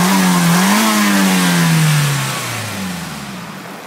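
A Nissan 180SX Type X engine revs up close and loud, its pitch climbing briefly then falling away as the revs drop back toward idle.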